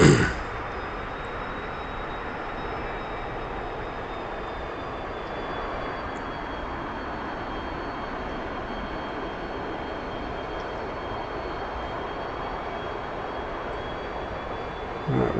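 An F-15EX jet taxis in the DCS flight simulator game, its engines giving a steady, continuous roar with a thin high whine running over it, level and unbroken throughout.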